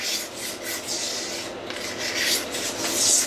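Steady rasping scrape of a razor blade drawn over a horn bow limb, close and continuous with repeated strokes, no talk.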